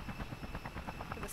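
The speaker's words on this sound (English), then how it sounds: "Ooh, we have a helicopter." Helicopter rotor in the Just Cause video game, a steady rhythmic chopping pulse that stays loud and close for the whole short stretch, with no talk over it.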